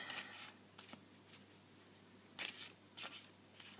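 Tarot cards being shuffled by hand, soft papery riffles and flicks arriving in scattered bursts over a quiet low hum, faint and close with no talking.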